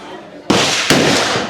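Two loud sharp gunshots ring out close together at a shooting range at the Cu Chi Tunnels, each followed by a lingering noisy decay.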